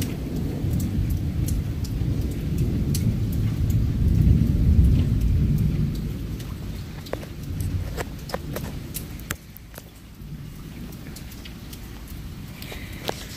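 Steady rain with deep rolling thunder, loudest in the first half and fading to a lower rumble, scattered drips and taps throughout.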